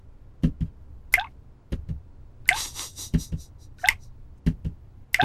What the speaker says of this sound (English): He watched the tap drip for a while